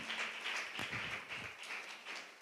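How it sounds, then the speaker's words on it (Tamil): A church congregation claps hands together, a soft, fairly steady patter of many hands heard from some distance, with no one speaking over it. "கைத்தட்டி ஆண்டவருக்கு ஒரு நன்றி சொல்லலாம் உற்சாகமாக"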